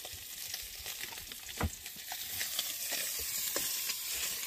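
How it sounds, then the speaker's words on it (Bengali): Fish frying in a pan aboard a small boat on a Sundarbans river, a steady close sizzle with scattered sharp pops and crackles, no voices. "মা এদিকে রান্না শুরু করে দিয়েছে, মাছটা ভেজে নিচ্ছে।"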